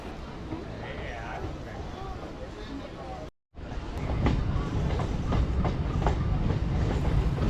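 A MEMU train runs at Mandavalli railway station with a loud, steady rumble and rhythmic clickety-clack of wheels, broken by a brief dropout, with wind buffeting and voices talking over it.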